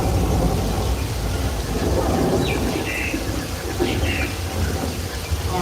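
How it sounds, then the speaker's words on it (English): Studio sprinklers shoot water straight up to fall as artificial rain on a Universal Studios set. It makes a continuous broad hiss of falling water, steady and fairly loud throughout with no talking. "We are shooting water straight up through the air through the sprinkler."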